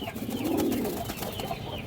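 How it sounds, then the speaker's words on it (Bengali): Chila breed pigeons, an old local breed, coo softly nearby, a low rolling call rising and fading, with faint rustling and background noise around them. "চিলা কবুতর আছে, এই যে দেখেন একবারে পুরনো জাতের কবুতর"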